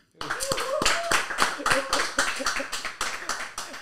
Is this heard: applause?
yes